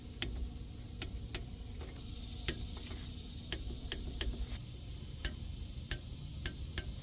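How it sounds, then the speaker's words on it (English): A torque wrench clicks repeatedly and sharply while bolts are tightened on a Ford F150 axle and wheel bearing job, the clicks evenly spaced over a steady low background hum. "now we need to grab our torque wrench and torque these bolts down"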